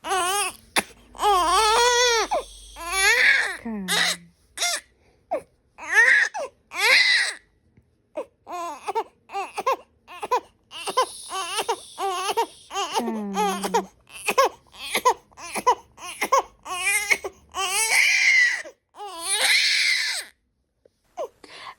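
A baby crying over and over, wailing bursts with short gasping pauses in between, loud and close, with a few softer whimpers and babbling moments mixed in.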